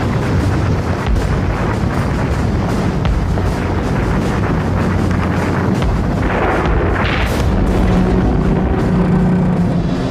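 The battleship Tirpitz's guns fire a barrage at Lancaster bombers in a fjord: a dense, continuous rumbling roar with wind-like noise and heavy low thuds, loud throughout.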